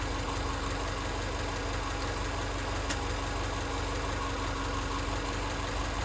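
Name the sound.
2007 Subaru Outback engine running warm, idling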